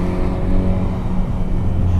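Ford Focus ST estate, 2012, with the 2.0 EcoBoost four-cylinder and its silencer removed, accelerating: a loud, steady, throaty exhaust drone held close for about two seconds with no talk.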